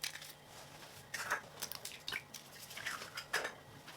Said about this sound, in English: In another saucepan, crack in 4 eggs.